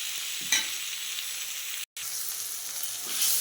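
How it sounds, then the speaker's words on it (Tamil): Chopped perandai (adamant creeper) sautés in a hot pan with a steady, close crackling sizzle and faint stirring, interrupted by one very short silent gap. "இன்னும் ஒரு 5 நிமிஷம் நல்லா வதங்கணும்."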